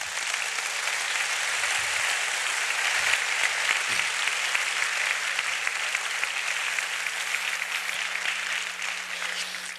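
Applause from a church congregation during a sermon, a steady wash of dense clapping that fills the room for about ten seconds with no voices over it.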